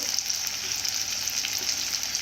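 Tomatoes frying in a hot pan, a steady bright sizzle running without a break at moderate loudness, with no voices.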